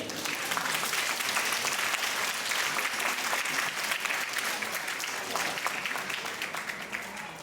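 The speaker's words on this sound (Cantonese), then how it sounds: "我哋再一次俾掌聲佢哋先" Sustained audience applause fills a Christmas performance hall, steady and dense clapping from many hands without a break.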